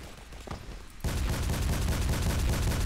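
Gunfire in the multiplayer video game Double Action: a brief lull, then from about one second a dense, loud, continuous barrage of rapid shots fills the rest of the clip with no talk.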